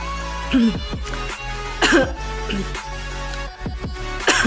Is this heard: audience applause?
no